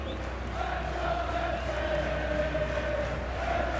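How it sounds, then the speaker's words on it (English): A large crowd of Wrexham football fans roars and cheers steadily in a stadium, a dense wash of voices filling the space with no pauses or breaks. "We see Ben Foster enjoying the applause of the Wrexham fans."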